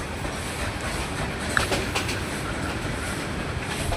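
A passenger train on the Sarishabari–Tarakandi line in Jamalpur, Bangladesh, rumbles along the rails as heard from near the carriage door, a steady close roar with a few faint metallic clicks and squeaks partway through.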